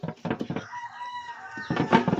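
A native chicken clucks and cackles close by on a rural farm, with a drawn-out tonal call in the middle between bursts of choppy clucking.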